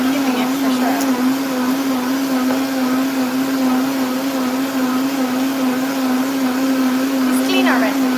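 A Vitamix blender runs steadily at high speed, a loud constant motor whine with a strong steady hum, continuous and close throughout.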